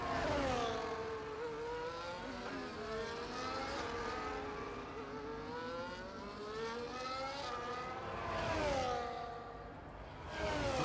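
Formula 1 car in a racing video game on an out lap at the Japan circuit, engine note climbing and falling through gear changes, with steady revving throughout and a sharp rise near the end, close and loud with no talk.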